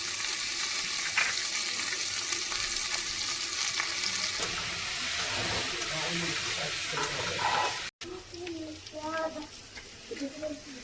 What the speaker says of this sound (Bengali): শুকনো লঙ্কা 3টে আর পেঁয়াজ কুচি ভেজে নেব শাকের জন্য।